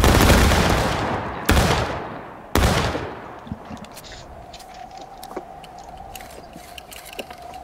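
Reenactor company from the 1st New Jersey firing a musket volley on command, a loud near blast followed by two more sharp cracks that ring out and fade, then quiet outdoor background with scattered small sounds.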